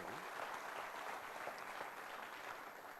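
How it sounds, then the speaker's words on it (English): A freshman induction audience applauds a student with a soft, distant, even patter of clapping that stays steady and low throughout. "give a good round of applause to this boy"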